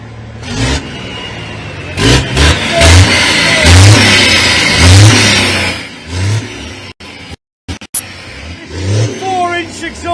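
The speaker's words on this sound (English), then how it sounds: "John Powell with some revving of the engine" Racing truck engine from the British Truck Racing Championship at Thruxton, turbocharged, revving in loud repeated surges with mechanical whine, a crowd and commentary audible beneath, a brief dropout near the end.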